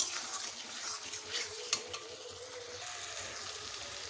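Ridge gourd posto frying in a pan while being stirred, a soft steady sizzle with a few scraping strokes, quiet and close.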